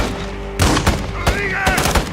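Video game gunfire from GTA 5 during an army firefight, several sharp shots cracking out in an uneven burst over a steady background hum, with a voice briefly audible.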